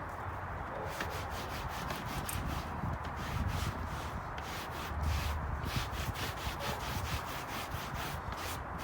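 A stiff brush scrubs steadily back and forth across a coarse car mat, a continuous close rasping with rhythmic strokes.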